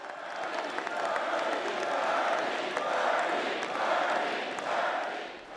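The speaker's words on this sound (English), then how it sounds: "crowds in Nevada have been cheering someone else's name" A large crowd cheers and applauds at a Nevada Democratic caucus rally for Bernie Sanders, a steady, dense roar of voices and clapping that swells and ebbs slightly throughout.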